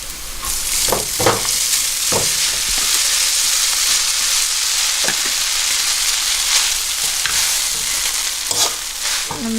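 Noodles being stir-fried with golden sautéed garlic in a pan, a steady bright sizzle throughout with periodic scraping and tossing clatters from the stirring, close and loud, no voices.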